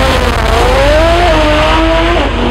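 A rotary-engined drag race car on a drag strip screams through its run, a loud, buzzing high-pitched engine note rising then shifting as it pulls away.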